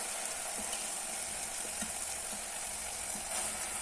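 Spring onions frying with masala in a pan, a quiet steady hiss with a few faint soft pops and stirring touches, continuous and close.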